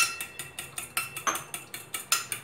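Eggs beaten with milk in a bowl for a bread omelette, heard as a fast, even run of about a dozen clinks of a utensil against the bowl, close and alone.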